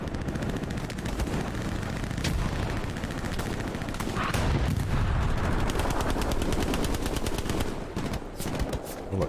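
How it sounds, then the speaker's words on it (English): Sustained gunfire in the video game Hell Let Loose, rapid machine-gun bursts and single shots overlapping almost continuously, loud and near, with heavier booms mixed in. "I feel like somebody's shooting at that window"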